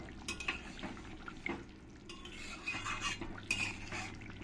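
A spoon scrapes and clinks against a pot while stirring Bengali-style rohu fish curry with garam masala, in close, irregular strokes over a faint simmer.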